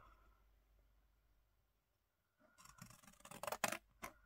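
Paper being cut with scissors while making a quick, easy DIY scrapbooking pouch: after a near-silent pause, a run of close crisp snips and rustles, with a sharper burst of cuts toward the end.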